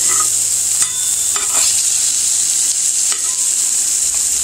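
Cod fillets frying in butter in a pan, a steady close sizzle with a few brief stirring or scraping clicks over it, continuous and fairly loud with no talking.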